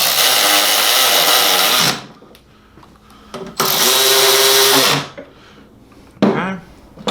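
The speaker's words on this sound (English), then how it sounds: "I'm just gonna throw a couple bolts in here just to hold everything together." A power tool drives bolts into a Quaife sequential transmission case for an AWD turbo Honda Civic EM2, giving loud high-pitched whirring bursts of about two seconds each with quiet gaps between them.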